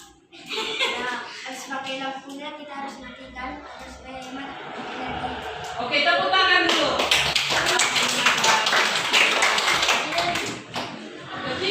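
Children in a classroom clap together in a patterned rhythm after a teacher's prompt, the claps growing louder and denser over the second half, with a voice speaking before and during.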